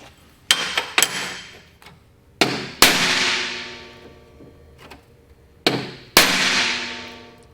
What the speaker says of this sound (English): Now I'll just punch the centers.